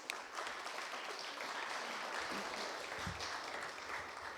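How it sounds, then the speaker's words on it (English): Applause from the audience at a Jersey City mayoral forum for moms, a steady and fairly faint patter of many hands clapping that carries on for several seconds in a hall. "Can we just give one more round of applause for Terry?"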